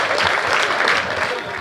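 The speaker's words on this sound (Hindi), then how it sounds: "जरा जोरदार तालियां बजाएं" Enthusiastic, close applause erupts from the audience at a Hindi kavi sammelan poetry recital, a thick continuous roar of many clapping hands that holds steady and tapers slightly at the end.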